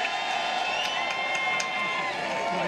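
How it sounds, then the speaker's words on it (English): Steady crowd noise at a May Day rally welcoming Senator Bernie Sanders, continuous cheering and clapping with occasional whoops rising above a dense, sustained wash of sound. "Let's give a warm welcome, warm applause for putting people first,"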